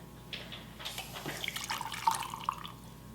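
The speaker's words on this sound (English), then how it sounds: "So I have my little strainer here, and I will just ladle some in." Beef meat stock ladled through a small strainer into a mug, giving soft, close liquid pours and a few drips over about three seconds, fairly quiet.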